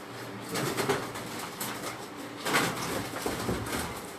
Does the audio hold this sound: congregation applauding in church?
no